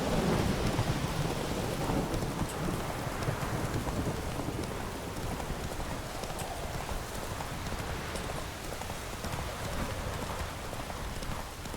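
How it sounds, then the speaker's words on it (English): Thunderstorm in The Witcher 3: steady heavy rain roars throughout, with deep thunder rumbling and a lightning strike near the start, while hoofbeats clip-clop underneath. "Lightning strike."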